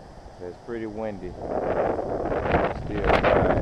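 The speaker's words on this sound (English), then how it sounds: "It's pretty windy." Gusty wind buffets the microphone in a rising roar after a brief bit of talking at the start.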